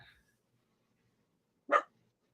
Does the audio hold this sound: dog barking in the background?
yes